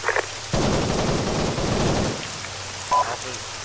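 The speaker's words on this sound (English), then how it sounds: "We're getting friendly fire here." Sustained automatic gunfire in the video game Arma 3 during a forest road sweep, a dense rattling burst lasting about a second and a half, with a brief radio-like blip after it.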